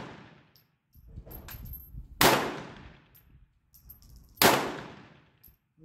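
Two sharp, loud gunshots from a Beretta pistol firing reloaded ammunition, spaced about two seconds apart, each with a ringing decay, plus quieter handling clatter in between.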